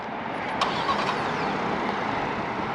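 A 2023 Ford Bronco Sport Heritage Limited 4X4 starting by remote start: a short crank catches near the start, then the engine settles into a steady, even idle heard from outside the vehicle.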